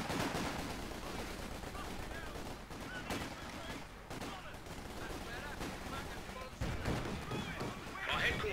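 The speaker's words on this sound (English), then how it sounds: "quarters are under fire" Gunfire in a multiplayer shooter video game: rapid bursts of shots, fairly quiet and distant, mixed with a player's voice talking over the action.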